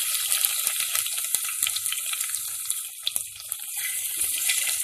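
Crushed garlic sautéing in a pan with curry leaves for a Tamil drumstick curry, a steady crackling sizzle with scattered sharp pops throughout.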